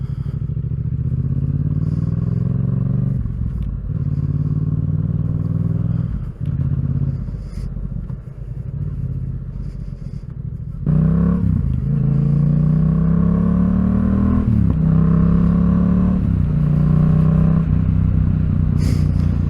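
A Yamaha MT-07 motorcycle is ridden along a road, its engine rising through the revs in repeated throttle pulls with gear changes, loud and close throughout with wind and road noise and no talk.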